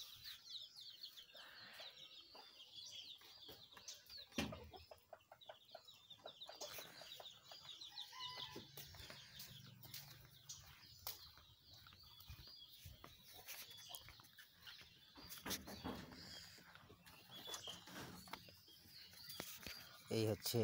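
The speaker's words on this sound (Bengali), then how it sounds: "এই হচ্ছে আমার বড় মুরগি।" Hens cluck and chatter in a farmyard, quiet and slightly distant, with soft intermittent calls running throughout while a person talks over them now and then.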